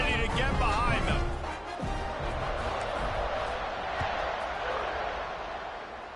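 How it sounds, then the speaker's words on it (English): A stadium crowd in a Madden football video game makes a steady, broad roar that swells and fades slightly, with indistinct voices over it. "this crowd now ready to get behind them"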